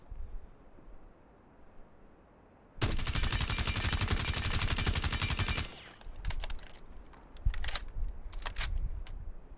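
Suppressed automatic gunfire from Sledge's weapon in the video game Rainbow Six Siege: a loud, dense rapid burst of about three seconds, followed by quieter scattered game sounds.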